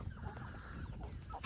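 Brahma chickens cluck softly in a short burst of low, scattered clucks, faint and close.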